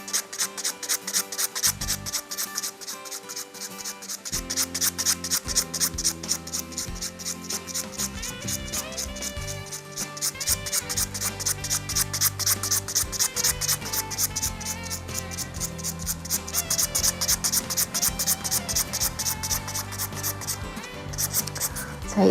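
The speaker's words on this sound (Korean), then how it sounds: "탑젤 부분 파일을 이용해서 제거 작업 들어가겠습니다" A nail file grinds top gel off a fingernail in fast, even back-and-forth strokes, a close, continuous raspy scratching that holds a steady rhythm throughout.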